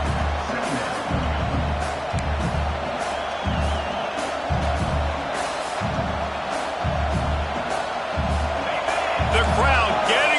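Stadium crowd in a college football video game, Oklahoma at Michigan, roaring steadily for the defense during a red zone stand, a broad wash of noise held through the whole stretch under a play-by-play commentator.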